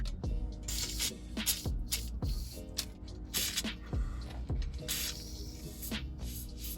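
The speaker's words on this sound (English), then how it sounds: "So pretty much after spraying that, you're just gonna let it soak for a little bit" Short hissing bursts of penetrating oil spray onto exhaust bolts of a Lexus SC400 repeat in quick succession, close by, separated by brief pauses and small clicks and clanks.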